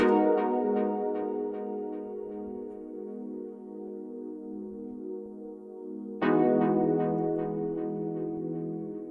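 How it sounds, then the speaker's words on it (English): R&B beat with a synth pad layered with keys, sustained chords ringing, then a fresh chord struck midway, soft and steady with no voices. "So layered with the keys sounds like this."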